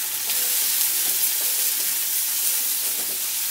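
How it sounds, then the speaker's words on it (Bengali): Spice paste sautéing in a pan for an egg and spring onion dish makes a loud, steady, close hiss and sizzle with occasional scraping stir sounds, and no voices. "এখন এই মশলাটাকে একটু কষিয়ে নেব।"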